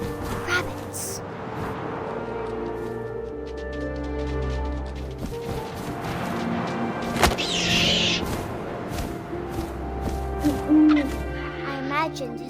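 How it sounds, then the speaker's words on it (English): An owl hoots repeatedly in the video game What Remains of Edith Finch, set against a wide, windy night ambience, with occasional soft thuds and rustles around the calls. "And suddenly, I was an owl."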